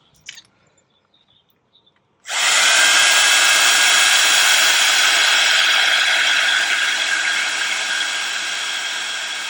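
A handheld embossing heat tool switches on after a few soft clicks and blows with a loud, steady, hissing whir, close to the listener, easing slightly in level toward the end.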